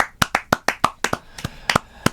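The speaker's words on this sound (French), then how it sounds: "Moi j'applaudis." Single pair of hands clapping about a dozen times in a quick, slightly uneven rhythm, close and dry, with no talking.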